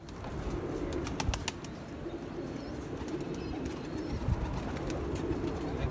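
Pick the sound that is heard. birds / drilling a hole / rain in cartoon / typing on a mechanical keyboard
birds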